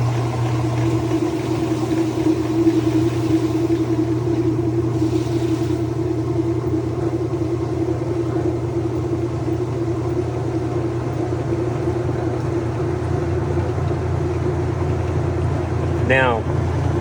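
A flood-damaged Whirlpool washer runs its drain and spin cycle with a steady low motor hum and rumble that holds unchanged throughout, close and continuous, with a brief squeak near the end.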